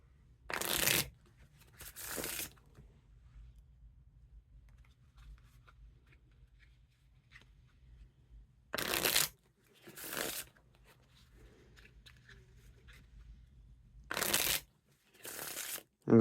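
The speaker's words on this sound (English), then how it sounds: "Now, time for the riffle shuffle or bridge shuffle." Thick ED playing cards being riffle and bridge shuffled, giving four loud bursts of crisp fluttering card noise, two close together at the start and two near the end, with near-silence between them.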